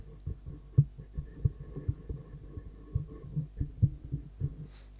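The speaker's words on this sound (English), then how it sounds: "let's start the handling noise test with the Podmic. I'm just going to touch it, touch the stand" Low thumps, rubs and bumps of a Rode Podmic microphone and its stand being touched and handled, coming in irregular bursts.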